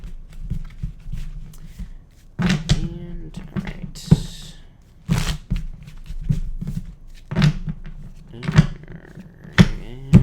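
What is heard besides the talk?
tarot cards being shuffled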